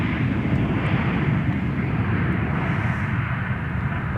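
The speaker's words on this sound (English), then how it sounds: "This is Delta Connection, operated by Endeavour Air, flight 858 from Rapid City. Mitsubishi CRJ" Delta Connection Mitsubishi CRJ900LR regional jet operated by Endeavour Air at Minneapolis–St. Paul airport, its engines a steady, loud, broadband roar that holds evenly throughout with no talk over it.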